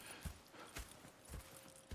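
Horse hooves clip-clopping in the video game Red Dead Redemption 2, a slow, uneven walking rhythm of soft thuds, faint and close, with no talk over them.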